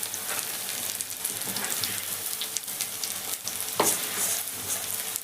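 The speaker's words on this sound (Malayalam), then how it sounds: "നമ്മൾ മുളക് ബജി ഇവിടെ പൊരിച്ച് റെഡി ആക്കി ഇട്ടാ." Chili bajji fry in hot oil, a dense, even sizzle and crackle heard close up, fairly quiet and steady, with a few sharper pops, and no voices.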